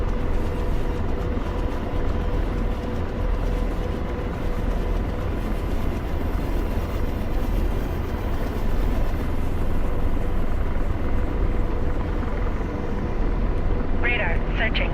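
A video-game Apache attack helicopter drones and rumbles continuously in a dense, loud wash of rotor and engine noise, with a short chirping burst near the end.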